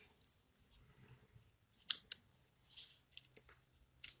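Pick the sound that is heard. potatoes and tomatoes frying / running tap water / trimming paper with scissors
trimming paper with scissors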